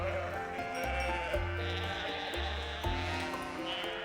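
Sheep bleat repeatedly in the video game Love and Deepspace, several overlapping calls in a steady rhythm over a continuous ambient music bed.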